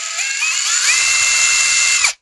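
Prostormer 20V brushless impact wrench spins freely at low speed with no load, a steady high motor whine that rises slightly in pitch and cuts off abruptly after about two seconds.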